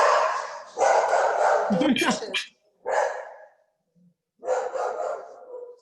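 A dog barks in short bursts amid a lively home cooking party, with several people talking and laughing around it and brief quiet gaps between the louder passages.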